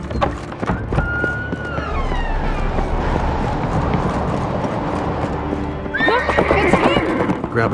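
In The Witcher 3: Wild Hunt, horse hooves clip-clop in a steady gallop while a horse neighs, with a siren-like wail rising near the end; loud and close throughout.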